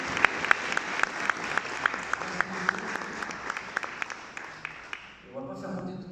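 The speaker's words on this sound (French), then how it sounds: "applaudissements pour vous et pour votre collègue." Applause at a business awards ceremony for small companies, scattered distinct claps over a soft crowd wash, fading before a speaker starts talking.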